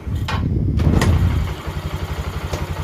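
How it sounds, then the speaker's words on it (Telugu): A Honda Dream Yuga motorcycle engine is kicked over and catches, a brief rough revving burst settling into a steady, pulsing low idle close by. "ఇప్పుడైతే నేను ఒకసారి కిక్ కొడతా ఒకసారి కిక్ కొడదాం మనం"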